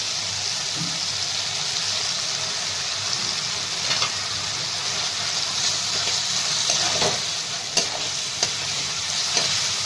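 Chopped vegetables frying in a pan with roasted peanut powder, a steady close sizzle under repeated stirring scrapes and a few sharp utensil clicks, with no voices.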